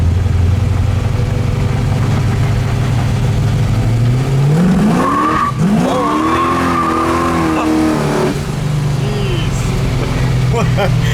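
A 1971 Camaro SS engine roars loudly and continuously as the car accelerates hard, with rising pitch sweeps through the gears and some tire squeal, close and dominant throughout.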